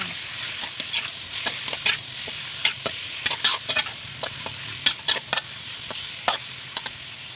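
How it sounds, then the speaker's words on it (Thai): Thin slices of wild boar meat are stir-fried in a pan, giving a steady soft sizzle broken by frequent sharp scrapes and clinks of a utensil stirring, close and moderately quiet, with no talking. "ใส่เนื้อหมูลงไปค่ะ เนื้อหมูเราหั่นชิ้นบางๆ นะคะ"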